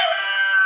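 An island-born bantam rooster crows once, close and loud, a brief bright harmonic call that fills the whole short moment.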